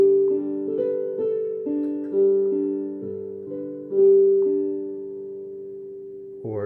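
Solo piano plays a passage, steady sustained chords and a moving left-hand part, moderately loud and close, with no voice over it.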